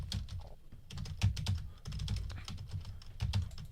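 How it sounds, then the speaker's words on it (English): Rapid keystrokes on a computer keyboard clatter in quick irregular bursts with brief pauses, close and moderately loud over a dull low room rumble. "This is me typing."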